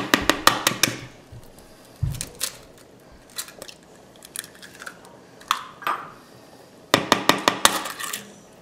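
Eggs cracked against a bowl rim for homemade cornbread batter: bursts of sharp close taps and clicks at the start and again near the end, with scattered knocks and a dull thud between, in a quiet kitchen.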